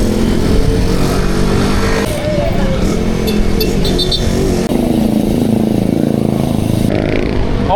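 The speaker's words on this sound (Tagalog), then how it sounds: "Okay, traffic pala dito sa Bulihan." Busy road traffic of cars and motorcycles in Bulihan, Philippines, heard from a bicycle, with engines rumbling and revving steadily nearby and a continuous wash of noise throughout.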